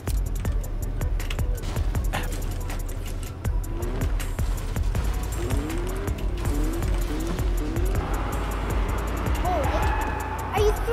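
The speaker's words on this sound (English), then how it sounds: "premium drift right there" A vehicle drifts in Fortnite Battle Royale as squealing tires chirp in short, rising bursts over a busy mix of engine rumble and game clatter, with voices talking throughout.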